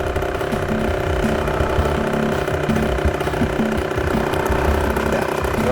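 A motorcycle engine idles steadily at close range, a continuous low, even rumble with a faint mechanical chatter that holds level from start to finish.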